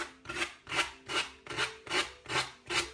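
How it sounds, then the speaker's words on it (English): Sandpaper rubs rhythmically over an MDF door frame sign, eight even, raspy strokes about a third of a second apart, close and clear with no talking. "I'm going to get the sandpaper and I'm just going to work"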